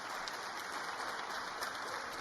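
Members of Congress clapping during Trump's congressional address, a steady, distant wash of applause from a large chamber, continuous and even throughout.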